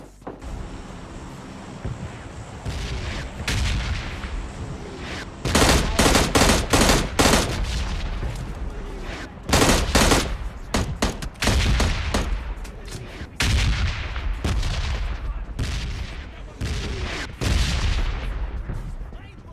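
Video game gunfire crackles in rapid bursts and single shots, loud and near over a constant windy, rumbling backdrop, with volleys clustered and spaced unevenly throughout.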